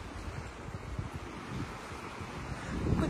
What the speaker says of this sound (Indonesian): Beginilah kondisinya gunungnya. Angin terus.